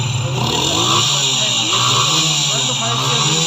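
A 125cc motorcycle engine runs loud and close, its throaty drone rising and falling slightly as it revs.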